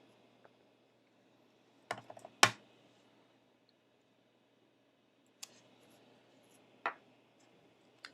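Sparse keystrokes on a computer keyboard while entering a short text for a papercraft project, a few faint clicks and one brief cluster of taps separated by long quiet gaps.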